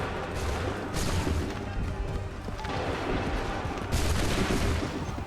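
A volley of musket fire in Assassin's Creed 3, heavy overlapping shots with sharp cracks that swell near the start and again toward the end over a continuous battle din.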